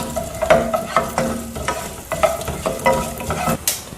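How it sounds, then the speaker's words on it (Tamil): Coriander seeds and fenugreek are roasted in oil in a pan while being stirred for sambar, producing a soft sizzle broken by repeated scraping spoon strokes at a steady rhythm, close and fairly loud. "அப்புறம் வெந்தயம் போட்டுடலாம். மொதல் ரெண்டையும் நல்லா வறுத்துக்கலாங்க"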